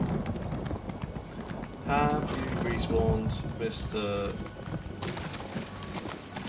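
Horse hooves trot at a steady rhythmic clip-clop in Elder Scrolls Online on Xbox One, moderately loud beneath game ambience and music, while a person talks over them.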